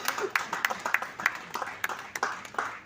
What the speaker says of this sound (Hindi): हम सब एक बार तालियों से इस क्षण का अभिनंदन करें